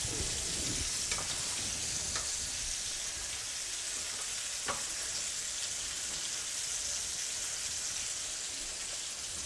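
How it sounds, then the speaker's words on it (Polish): Pork tenderloin sizzles steadily in a hot pan, a dense, even crackle and hiss with occasional sharper pops throughout, close and unbroken by talk. "a tutaj sobie to smażysz"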